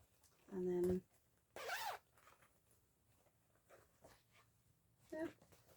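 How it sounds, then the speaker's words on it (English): A zipper on a vinyl-fronted cross-stitch bag is pulled in one clear, close zip, then a second shorter one, and a brief third rasp near the end, separated by quiet rustling. "Sorry, a bit of zip ASMR for you."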